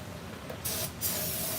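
Brake cleaner hisses from a spray can in two short bursts, close and fairly loud, over a steady background noise.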